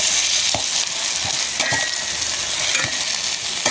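Ground meat frying in a pan gives a loud, continuous sizzle with occasional sharper spatters and light clatters from the pan.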